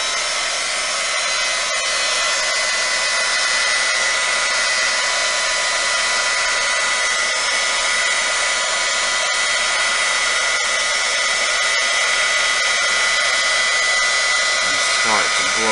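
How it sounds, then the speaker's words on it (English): A heat gun blows over an epoxy resin ocean-wave coaster, giving a loud, steady whooshing hum that runs unbroken for about sixteen seconds with no talking. "Now, just using my heat gun."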